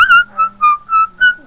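Someone whistles a short, bright melody of about five clear notes, close and alone, with brief gaps between phrases.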